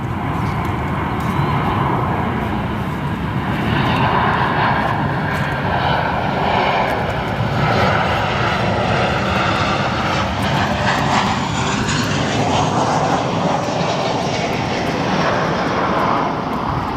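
A United airliner lands at O'Hare airport, its engines a loud sustained roar with a shifting, sweeping tone as it rolls past, without any talk.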